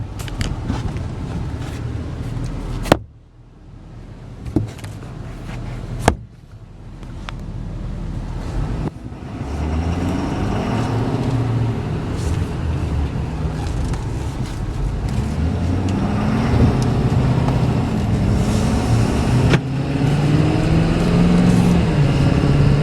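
Cab interior of a 2015 Ford F550 rollback flatbed truck with 13k miles during a test drive: a steady low engine and road drone that builds gradually, with a few sharp knocks and a brief drop near the start.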